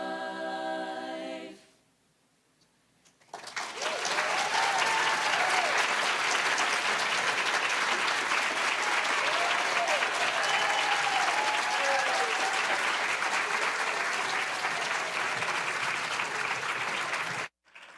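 After a short piano phrase and a brief pause, a large audience at a teacher-of-the-year celebration gives the Miramonte High School chamber singers long, loud, sustained applause that holds steady before stopping abruptly.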